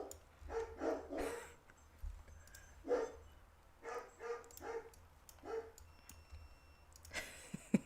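Several dogs bark at a distance in irregular clusters, sharp woofs and yips separated by short pauses, with a faint hum underneath.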